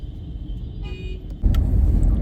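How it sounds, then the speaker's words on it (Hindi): Low rumbling road traffic in a jam, idling and slow-moving vehicles close by, with a brief horn-like tone and a heavier engine surge near the end. "अभी गाइस ट्रैफिक जैम है आगे, थोड़ा सा गाड़ियां धीरे चल रही हैं"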